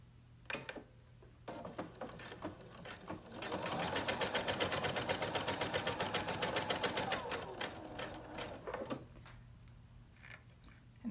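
A sewing machine stitches fabric in a fast, even run of needle strokes for several seconds, with shorter start-stop bursts before and after, close and moderately loud.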